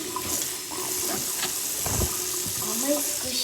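Squishy toys and water being poured out of a wet plastic bag, with irregular splashes, drips and crinkling close by, mixed with faint background voice sounds.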